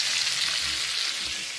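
Pacu and tilapia fish frying in hot oil give a steady, close sizzling hiss with faint bubbling underneath, continuous and without talk.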